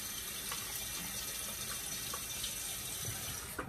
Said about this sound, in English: So now you can actually rinse the blade under some water.